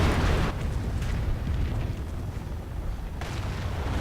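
Sector artillery in Company of Heroes rumbles as a heavy, sustained barrage of booms and deep roaring blasts, loud and continuous with no talk over it.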